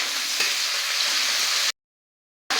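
Potatoes, diced and washed, frying in a pan with oil, green chilli and chopped onion, a steady loud sizzle that cuts out abruptly to silence and then resumes.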